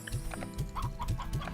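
Chickens in the video game Slime Rancher cluck in quick, rhythmic repeated notes, close and fairly loud over a steady game background hum, with no voices.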